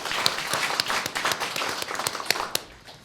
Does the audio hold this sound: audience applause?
yes